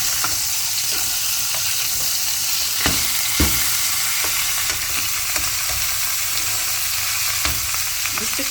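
Food sizzles steadily in a frying pan while a utensil scrapes and taps against it, with a few sharper knocks as pieces are turned over to cook the other side; no one speaks.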